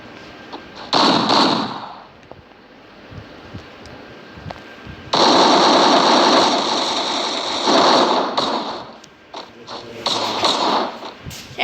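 Bursts of gunfire in the video game Free Fire come in several loud, sustained volleys separated by short lulls, with a voice briefly speaking between them.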